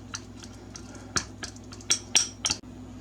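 A spoon stirs a cooling blueberry mixture in a dish, giving a few sparse, faint metallic clinks and scrapes spaced irregularly against a quiet background.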